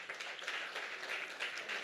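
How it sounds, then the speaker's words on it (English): Audience applause at a nonprofit kickoff event for a summer camp program in New York City, a steady wash of clapping throughout, moderately loud and without talk. "Please give yourself a warm round of applause."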